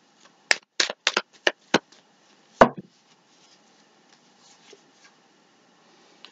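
Tarot cards are shuffled by hand in a quiet room: a quick burst of crisp riffling snaps, then one louder slap, followed by faint soft handling.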